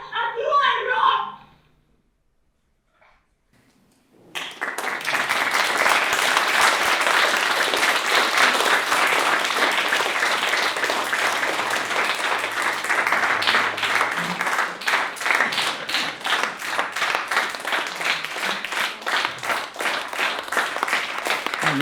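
An audience at a documentary film premiere breaks into loud, sustained applause that carries on steadily for many seconds, following a short burst of voices and a moment of quiet.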